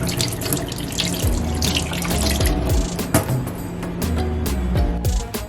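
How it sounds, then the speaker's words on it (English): Tap water runs steadily into a sink while makeup brushes are rinsed of leftover soap, a continuous close splashing stream with no talk. "So just going to rinse off the excess soap."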